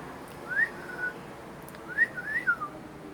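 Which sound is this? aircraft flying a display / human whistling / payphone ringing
human whistling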